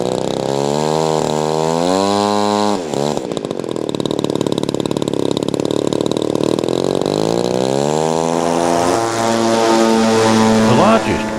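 Model warbird aircraft, a formation of Thunderbolts, fly past with loud, buzzing propeller engines whose pitch sweeps up and down as they pass and circle, continuous and fairly close.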